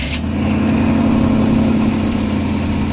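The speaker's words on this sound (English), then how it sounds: "Just let it idle, just like that." A carbureted 1985 Chevy C-20 square-body pickup idling: a steady, close, low throbbing engine rumble that holds even for the full stretch, with no talk.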